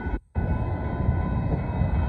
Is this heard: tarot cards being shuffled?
no